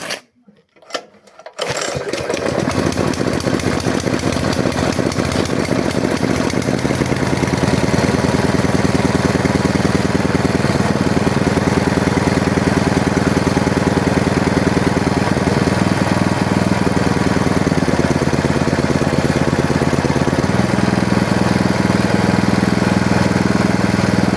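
A small petrol engine on a Forte F210GS-20 unit sputters briefly, catches and settles into a loud, steady idle that runs on with slight shifts in pitch.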